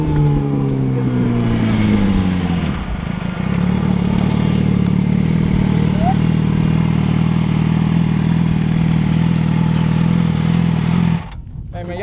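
A motorcycle rolls up, its engine note dropping as it slows, then settling into a steady, loud idling rumble close by before cutting off near the end.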